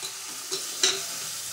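Fried cauliflower being added to a spiced dal base and stirred in a pan, with two short scraping, sizzling bursts over a faint steady hiss, fairly close and alone.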